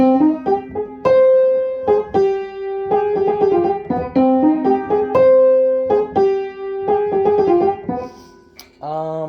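A piano plays a bright, catchy melody with chords in a steady rhythm, clear and close, with no voices.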